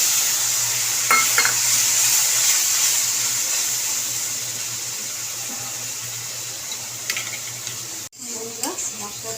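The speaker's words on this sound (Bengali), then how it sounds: "মশলাটাকে ভাজা প্রায় হয়ে এসছে" Ginger, cumin, green chilli and tomato fry in a pan for potato dum, a steady sizzle with occasional stirring scrapes, close and fairly loud, ending in a brief clatter.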